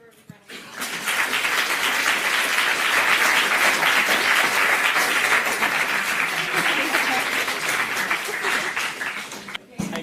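An audience at a surgery careers event claps for a departing speaker: loud, sustained applause swells in quickly, holds steady for about nine seconds, then cuts off sharply.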